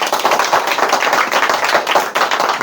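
A room full of students clapping during a classroom lesson, loud dense applause sustained throughout without a break.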